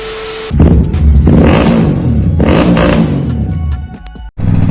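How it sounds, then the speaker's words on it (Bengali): A motorcycle being ridden, its engine droning loud and close with rising revs and wind rush, briefly cutting out near the end. "অনেকদিন পরে বাইক চালাচ্ছি বেশ ভালোই লাগছে"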